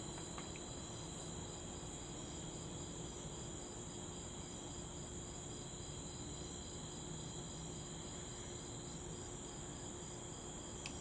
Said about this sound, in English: Bugs making their noise. Crickets. Cicadas.